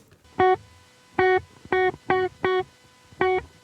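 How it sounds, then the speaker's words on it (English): Six short, distorted electric guitar notes through a Line 6 POD GO preset, played one after another, each cut off dead with no ringing tail, silence between them. "there's absolutely no decay in the guitar tone"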